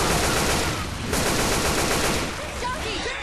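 Sustained, loud automatic gunfire from the video game Left 4 Dead 2, a dense rapid stream of shots filling the whole moment with barely a pause.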